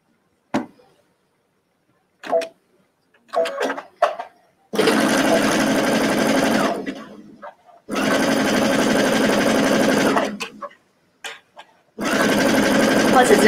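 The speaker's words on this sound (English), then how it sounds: "with right sides together, I'm gonna go ahead and just stitch this now." A quiet home sewing machine stitches pajama pant pieces with right sides together. A few short taps and brief whirs lead into three longer steady runs of stitching, close and clear, with pauses between them.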